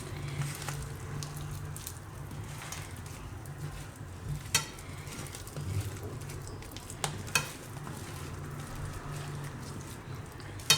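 Potato and aubergine stuffing for paleeta shaak is kneaded and mixed by hand in a bowl, giving soft, steady squishing and stirring with occasional sharper clicks and taps.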